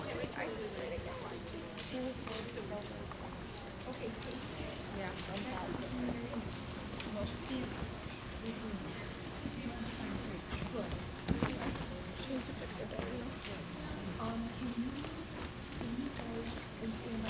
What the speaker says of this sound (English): Trot, trot, please, trot your horses.